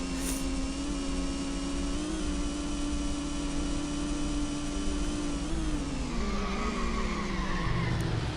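A race car engine drones steadily in the Sports Car GT racing game, a loud sustained whine that holds pitch before shifting downward and climbing again, with no talking over it.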